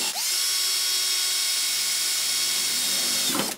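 A power drill whines loudly and steadily for about three and a half seconds while boring holes for switches in a DIY simulator button panel, then winds down abruptly at the end.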